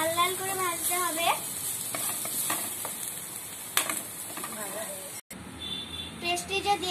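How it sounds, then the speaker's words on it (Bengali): Papaya pieces sizzle and fry in a hot pan while being stirred. The steady, loud frying hiss runs under a speaking voice, with a brief dropout near the end. "লাল লাল করে ভাজতে হবে, পেঁপেটাকে লাল লাল করে ভাজতে হবে।"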